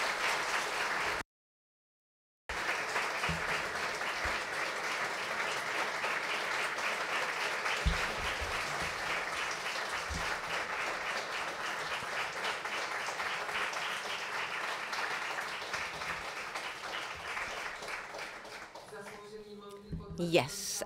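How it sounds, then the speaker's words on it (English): Audience applause at an education and democracy conference after a talk, sustained dense clapping from a hall crowd lasting many seconds with a brief cut near the start, tapering off at the end as voices come in. "a well-deserved applause for Michal Uhl."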